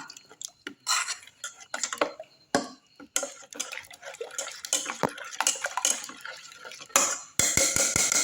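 A spoon clinks and scrapes repeatedly against a glass, stirring pineapple juice with splashing liquid, the taps quickening into a rapid rhythm near the end.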